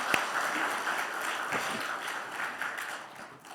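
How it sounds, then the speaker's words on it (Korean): A church congregation applauds its choir after a New Year worship service, a broad, sustained wash of many hands clapping that slowly tapers off toward the end. "우리 샬롬 찬양대에 우리 격려의 박수 다시 한번 하겠습니다"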